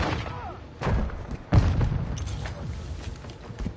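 Grenade blasts in Modern Warfare 2, two heavy booming thuds about a second apart, the second louder, followed by rumbling battle noise.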